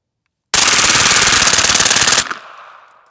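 KRISS submachine gun fired on full auto during a tactical photoshoot: one loud continuous burst of rapid shots lasting under two seconds, followed by a fading echo, with no talk.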